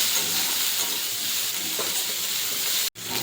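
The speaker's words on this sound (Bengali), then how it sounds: "রসুন সব ভাজা হয়ে গেছে, তুলে নেবো।" Onion, green chili and garlic fry in a pan with a steady, dense sizzle and hiss, close and loud, with faint stirring throughout and a brief cut near the end.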